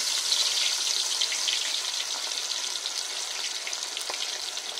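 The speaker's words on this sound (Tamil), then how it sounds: "இப்போ வந்து காடு எடுத்து பொரிக்க ஆரம்பிச்சிடலாம்." Quail fries in about a litre of oil, crackling and sizzling steadily and close up, with fine popping bursts all the way through and no talk.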